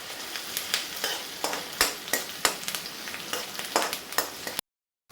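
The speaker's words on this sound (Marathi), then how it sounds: "परतून घेऊया कांद्याला" Chopped onions sautéing in hot oil with popped mustard seeds in a kadhai, a steady close sizzle broken by repeated sharp scraping strokes of a spatula stirring them, with no voices.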